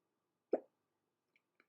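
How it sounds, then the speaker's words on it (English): A single short hiccup from a person pausing while blending alcohol ink over glitter, a quick close burst followed by faint small sounds in an otherwise quiet room. "Excuse me and my hiccup."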